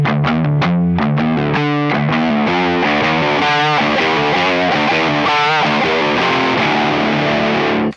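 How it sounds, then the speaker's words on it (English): A distorted electric guitar riff starts as tight, choked palm-muted chugs and gradually opens into ringing, sustained chords, loud and close throughout with no talking. "if I took that same riff and I slowly went from the choking muting to"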